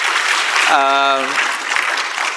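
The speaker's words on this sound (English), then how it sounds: "I think Prime Minister deserves an applause for that." Audience applause for the Prime Minister at the 2025 Aspen Security Forum panel, a steady clatter of clapping through the moment with a single voice rising briefly over it partway.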